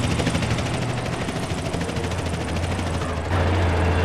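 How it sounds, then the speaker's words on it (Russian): Helicopter in the video game GTA San Andreas, a loud, steady, throbbing rotor drone that fills the whole stretch and swells slightly near the end. "Вертолет еще"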